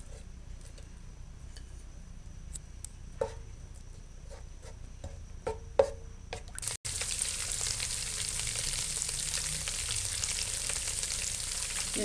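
Ginger garlic paste hits a cup of hot oil. After a quiet stretch of faint crackles and ticks, a loud, dense sizzle bursts in and keeps hissing steadily to the end.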